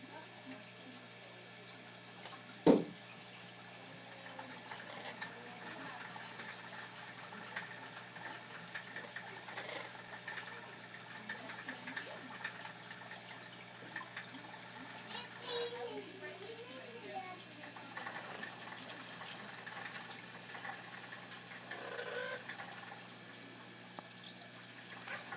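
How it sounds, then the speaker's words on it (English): Shower water runs in a faint, steady stream over an Amazon green parrot taking its first bath. A sharp knock sounds early on, and a person's voice talks softly throughout. "You like that shower bath?"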